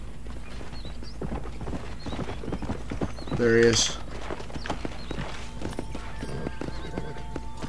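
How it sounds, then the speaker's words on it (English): A horse in the Western video game Red Dead Redemption: steady clip-clop hoofbeats with a sharp whinny in the middle, loud and close, while someone talks briefly over it. "Alright, horse, come here."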